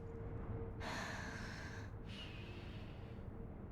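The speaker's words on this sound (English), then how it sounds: "She's snoring." A character snoring in Sekiro: Shadows Die Twice, two breathy, raspy snore-like breaths in succession, the first longer and louder, over a steady low background hum.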